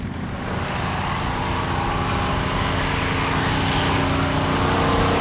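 North American P-51 Mustang fighter's propeller engine droning steadily, a loud continuous rumble that gradually swells, with no voices.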